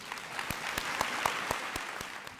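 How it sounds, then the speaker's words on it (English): Applause from a community toy event audience for the sponsors, a moderate, fairly sparse clapping with individual sharp claps standing out over a soft wash of hands. "Please give these wonderful sponsors a round of applause."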